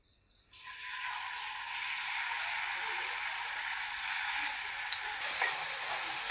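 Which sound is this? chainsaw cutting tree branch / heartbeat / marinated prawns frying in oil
marinated prawns frying in oil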